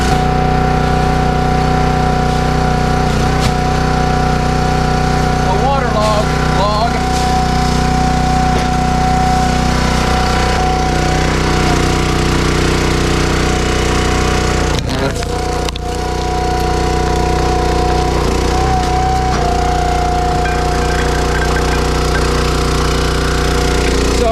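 A Dirty Hand Tools 22-ton log splitter's small gas engine runs continuously up close, a loud steady rumbling drone with a slight dip partway through and faint clanks over it.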